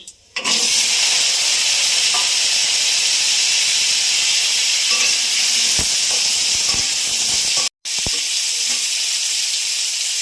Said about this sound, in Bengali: এবার দেবো আলু কাঁচকলাগুলো।